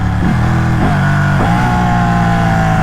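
A Ducati Panigale 1199S Tricolore motorcycle, loud and close, its engine note climbing in steps through several gear changes as the bike accelerates steadily.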